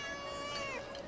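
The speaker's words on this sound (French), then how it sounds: "Non, regarde, c'est un chat." A cat giving a single drawn-out meow, close and fairly clear over a slight background hum.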